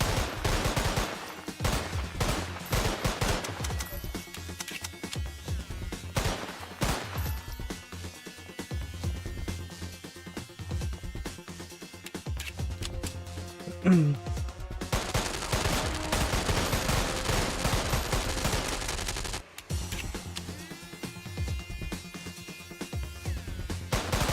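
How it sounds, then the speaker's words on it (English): Machine gun fire in the PS2 game Don 2: The Game, dense rapid bursts of automatic gunshots nearly continuous throughout, loud and close with short gaps. "Oh, they have like machine guns."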